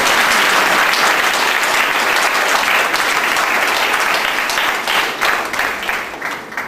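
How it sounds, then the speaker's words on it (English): A large audience at an award session claps in a big, dense, continuous round of applause that stays loud throughout with slight swells near the end. "I think we all need a big round of applause."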